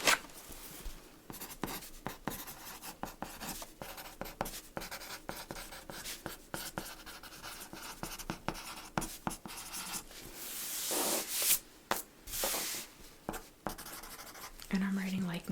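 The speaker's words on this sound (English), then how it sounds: "and I'm going to write this" A pen scratching on paper at a thrift store, soft and close, with short strokes that come in irregular bursts under quiet, soft-spoken narration.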